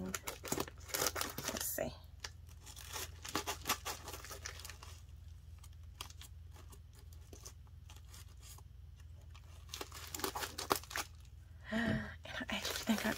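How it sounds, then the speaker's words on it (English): Tightly wrapped mail package being cut open and torn apart, close and fairly quiet, with crinkling plastic and tearing bursts in irregular patches and a voice speaking briefly. "I'm actually just gonna cut this open because she got it packaged up really nice and tight"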